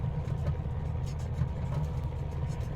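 Caudron C430 Rafale engine at half throttle in Microsoft Flight Simulator, a steady low propeller drone with a faint rough pulsing, quiet and unchanging throughout.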